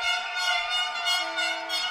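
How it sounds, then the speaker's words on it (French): Supporters blast air horns at a regional rugby championship final in France, a loud sustained blaring tone held continuously, with a second lower horn joining toward the end. "Pénalité sous les klaxons des supporters"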